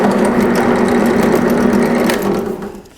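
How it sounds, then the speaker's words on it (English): A drill bores a hole in a scrap router base plate in a workshop, a loud, steady mechanical whir that holds for a few seconds and then winds down at the end. "I'll just drill a hole in it."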